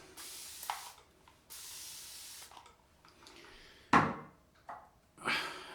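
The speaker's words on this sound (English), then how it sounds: "So I'm going to spray in a little bit more water." A spray bottle misting water onto a face before a shave with a Merkur 34c safety razor and Palmolive stick, giving several short, soft hissing sprays with pauses and light handling knocks, close and quiet.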